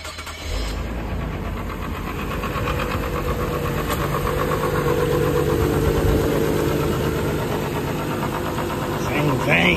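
A 1998 Nissan Stagea's RB25DET engine starts and settles into a steady, rough idle, close and continuous for several seconds.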